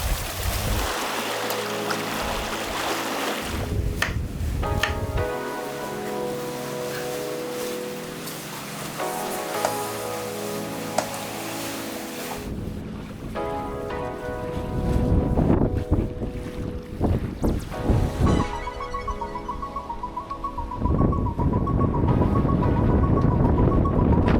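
Sailboat moving at about 6.4 knots in 11 knots of true wind, with steady wind noise across the microphone, water rushing along the hull and rigging hum, continuous and fairly loud, no talk.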